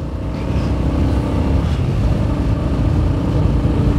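A Royal Enfield Hunter 350 motorcycle riding through a dam area, its engine a steady, close, continuous drone with wind rush throughout.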